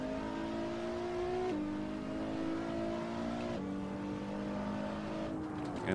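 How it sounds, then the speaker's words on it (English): A turbocharged V6 Acura NSX in the Assetto Corsa racing game revs hard and steadily, its tone climbing through the gears with two or three quick shift drops. The whining engine note is loud and continuous. "there is definitely the cry of a turbo V6 in the back"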